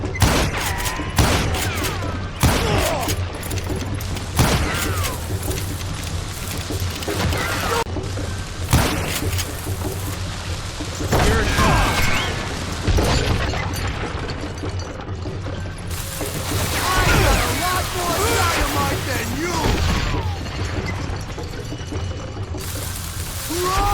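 Gunfire in the Western shooter video game Call of Juarez Gunslinger comes as repeated sharp shots and bursts in a busy, loud battle, with crashes and thuds between the volleys.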